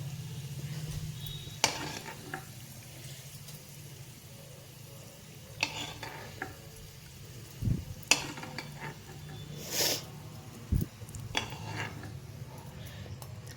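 Fried tempering is added to tomato chutney and stirred: soft scraping and stirring with scattered spoon and pot clicks over a faint sizzle, close and fairly quiet.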